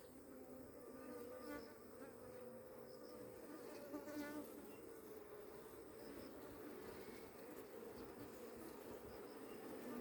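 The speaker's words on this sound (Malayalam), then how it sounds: "ഈച്ചകൾ ഓടി മാറുന്നുണ്ട് ഓടി തഴോട്ട് മാറും പേടിച്ച്" Bees swarm around a hive, a faint, continuous buzzing drone with insects passing nearby, steady throughout with soft background ambience and no talk.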